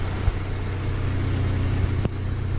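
Stage 2 VW Golf R with a diverter valve, its exhaust giving a steady low rumble with a brief pop near the start and a sharper crack around the two-second mark.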